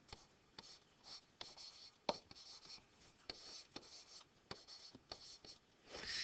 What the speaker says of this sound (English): I write it like that.